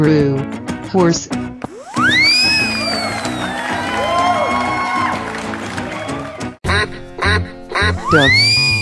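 A duck quacks in several loud, cartoonish bursts with whooping tones and a crowd-like background mixed in.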